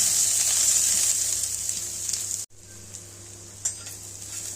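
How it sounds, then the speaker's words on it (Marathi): Two large onions fry in a pan for a masala paste, giving a steady close hiss that cuts out briefly midway and returns slightly softer, with a faint utensil tap near the end. "ते कांदे घ्यायचे, हे भाजून घेऊया."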